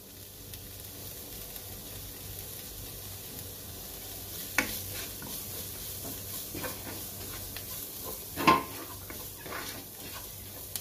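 Carrots sauté in a pan with curry leaves and coriander for bread masala: a soft, continuous sizzle with occasional stirring scrapes and a sharper clink of utensil against the pan.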